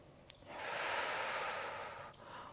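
A single slow, deep breath taken during a Pilates balance exercise, a soft airy rush that swells for about a second and a half and then fades, with brief faint breath sounds before and after.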